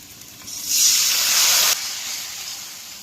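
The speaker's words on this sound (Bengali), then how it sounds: "এখন মশলাটা ভালো মতো ভেজে নিয়েছি, তেল ছেড়ে গেছে।" Spice paste (masala) hits hot oil with browned onions and bursts into a loud, steady sizzling hiss lasting about a second, then settles into a quieter crackle.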